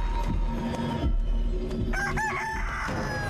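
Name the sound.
rooster crowing in the video game Chicken Feet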